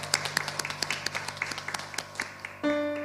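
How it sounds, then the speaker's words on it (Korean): Scattered claps from a church congregation during a worship service, a burst of separate hand claps close by, ending with a sustained tone that comes in near the end. "하나님께 영광의 박수 올려드리겠습니다"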